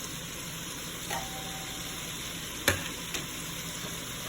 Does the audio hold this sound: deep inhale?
no